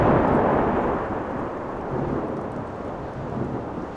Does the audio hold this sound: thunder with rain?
yes